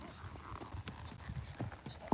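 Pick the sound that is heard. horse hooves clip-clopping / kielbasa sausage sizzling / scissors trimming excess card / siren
horse hooves clip-clopping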